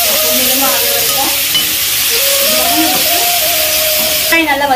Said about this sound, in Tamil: பச்சை மிளகாய் வதங்கினதும் ஒரு 4 வெங்காயத்தை பொடியா நறுக்கி நல்லா மிக்ஸ் பண்ணிக்கலாம்